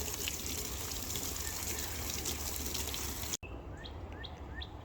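A raised garden bed being watered: a steady gushing spray of water onto soil and plants, then a quieter stretch with birds chirping nearby.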